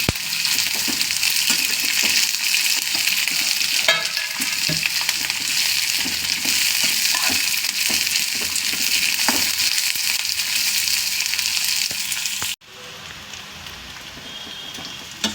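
Ingredients fry in a pan for jeera chitranna (cumin lemon-style rice), a steady loud broadband sizzle with scattered stirring clicks that drops abruptly near the end to a quieter hiss.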